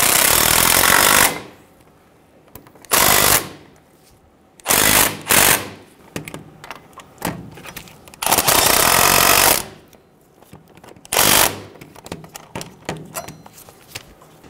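Loud bursts from a power tool, likely an impact wrench, snug down the front brake caliper bolts on a 2005-2015 Toyota Tacoma. There are about five rattling runs of one to two seconds each, separated by quieter pauses.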